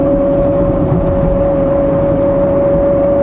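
A Ferrari mid-front V12 convertible rolls at slow speed, giving a loud, continuous low engine drone with a steady tonal whine over it and no break.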